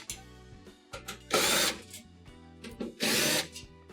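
A power drill drives out 1/4 inch screws from the top panel of a Whirlpool stove, sounding in short whirring bursts with two longer, louder runs and clicking handling noises between them, close and with no talk.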